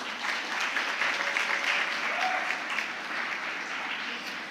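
Audience applause at a Model United Nations committee session after a resolution passes: dense, steady clapping from many hands fills the room throughout, moderately loud with no speech over it.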